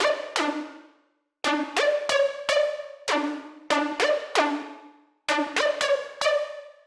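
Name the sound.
synth plug sample 'Call Me When the Beat Drops'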